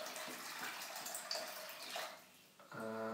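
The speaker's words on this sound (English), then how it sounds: "fill it up with water" Water pours and splashes into a plastic sandwich bag in a soft, continuous rush, close and fairly quiet, followed by a brief crinkle and a short tonal thud near the end.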